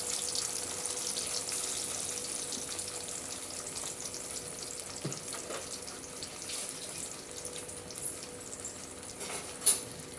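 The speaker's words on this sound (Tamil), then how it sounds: "மசாலாவை சேர்த்து இது பச்சை வாசனை போகிற அளவுக்கு வதக்கி எடுத்துக்குவோம்" Ground masala paste for street-style masala sundal sautéing in hot oil: a steady, continuous close sizzle with a few faint stirring clicks and no talking.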